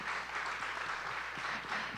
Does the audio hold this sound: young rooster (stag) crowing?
no